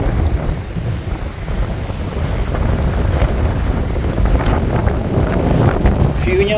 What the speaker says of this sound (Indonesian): Anginnya makin besar. Tuh itu angin itu.